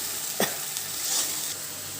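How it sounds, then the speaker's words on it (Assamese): Onions sizzle in oil in a pan with salt for a fish dish as a spoon stirs them, a steady hissing fry broken by one clear scrape of stirring, close and fairly loud, with no voices. "এতিয়া মই লৰাই থাকিম যেতিয়ালৈকে পিঁয়াজখিনি ৰঙা নহয়"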